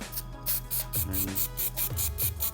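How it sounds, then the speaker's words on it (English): A can of white spray paint hisses in a rapid series of short bursts, about eight quick sprays in a row, close and fairly loud. "spray paint it on our hand"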